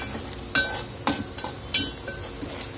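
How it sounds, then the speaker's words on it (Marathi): Green chili pieces are stirred into sautéed onions in a pan, giving a steady frying sizzle with several sharp scraping clicks of the spoon at uneven intervals, close and moderately loud, with no voices. "हे मिरचीचे तुकडे यामध्ये घालून घेणार आहोत आणि छान याला मिक्स करून घ्यायचं आहे"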